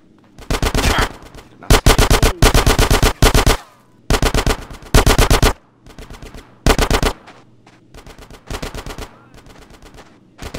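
Bursts of automatic gunfire from a firefight in GTA San Andreas rattle in loud, rapid volleys separated by short pauses, with later bursts somewhat quieter.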